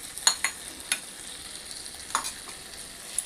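Tomato chicken with potatoes stirred in a pan over a low oil sizzle, with a few sharp spoon clinks and scrapes spaced out at irregular intervals, quiet and near.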